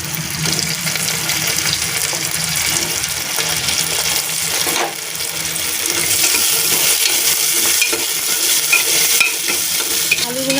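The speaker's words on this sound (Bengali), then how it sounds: "আলুগুলোকেও লাল লাল করে একটু ভেজে নেবে" Onion and potato pieces fry in hot oil in a pan, giving a loud, continuous sizzle broken by scraping stirs, heard up close with no talking.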